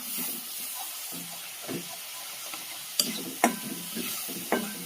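Turmeric, Kashmiri chilli and other spices frying in a pan for garlic pickle, a close hissing sizzle under repeated stirring scrapes and a few sharp spoon knocks, with no voices.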